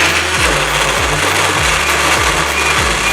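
A kitchen blender whirs steadily while blending garlic with water, a loud continuous motor drone with a gritty, churning texture and faint rhythmic pulses as the blade chops through the contents.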